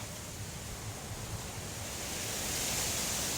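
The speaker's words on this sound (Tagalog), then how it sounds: "Grabe ang lakas talaga ng hangin dito ngayon." Strong typhoon wind roars steadily over a rice field as a broad, rushing wash of noise, growing slightly louder toward the end, with no voices.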